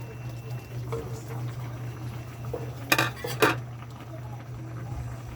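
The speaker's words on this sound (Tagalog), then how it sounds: "Lagyan na natin yung dahon ng kamuti" Sweet potato leaves going into a pot of simmering tilapia: a low steady hum of the stove underlies soft rustles, then two brief clattering clinks of a utensil against the pot, close and clear.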